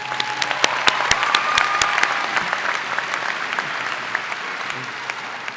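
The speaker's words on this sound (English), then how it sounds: "Let's give all of our graduates another round of applause" Steady applause from a large audience at a high school graduation ceremony, with sharp individual claps standing out early on, then continuing evenly at moderate volume.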